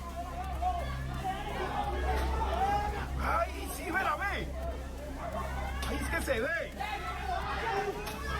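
Crowd chatter from an outdoor gathering, a dense babble of many overlapping voices with occasional louder shouts, steady and fairly close throughout.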